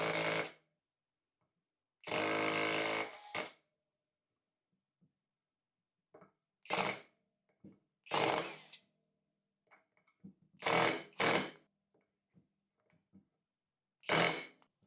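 Skil Autohammer PwrCore 12v cordless hammer driving a nail into wood, loud repeated bursts of rapid hammering with pauses between them and a few short taps in the gaps.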